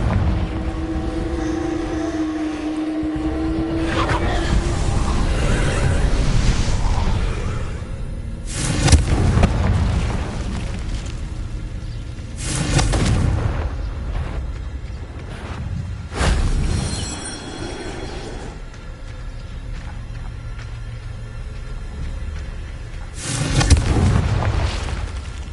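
Confringo fire spell explosions in Hogwarts Legacy, several loud booming blasts that break up against a steady rumbling background, with a few sharp bursts spread out over the span.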